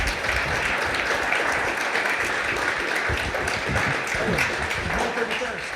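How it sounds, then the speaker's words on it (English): An audience applauds an entrepreneur guest on a talk show, a steady wash of clapping hands lasting several seconds at moderate volume, with some voices murmuring underneath. "Round of applause for Mark."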